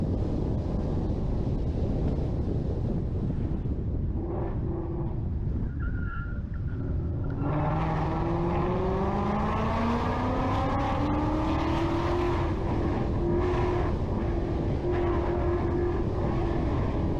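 A Ford Mustang drives through city streets, its engine note rising steadily from about the middle onward as it holds speed without fully backing off, with wind buffeting over the recording and no talk.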